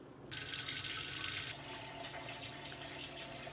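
Water runs from a kitchen tap into a pot left to soak after making chocolate brownies, a loud steady rush. It then drops to a softer flow as the stream settles in the filling pot.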